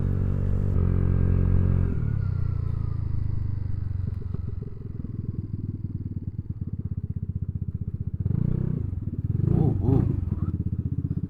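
A Vespa Sprint 150 scooter engine runs at full throttle, a steady buzzing drone that rises and holds, close and loud, with a brief clattering burst near the end and a voice speaking over it.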